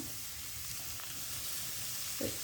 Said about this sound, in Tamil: நல்ல வடிவாக வதக்குவோம். இப்படியே இதோட சேர்த்து வந்து கறிமிளகாய் போடுவோம். கேரட்டையும் போடுவோம்.